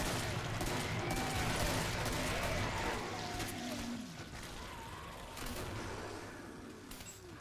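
Rapid automatic shotgun fire from an AA-12 in the video game Killing Floor, a dense continuous fusillade of overlapping blasts that stays loud throughout and eases slightly toward the end, with game effects in the mix.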